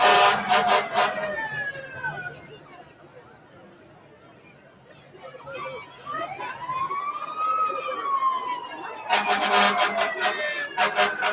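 Wailing emergency vehicle sirens sweep up and down at a Christmas parade, rising and fading across the street, with bursts of crowd chatter and noise at the start and end.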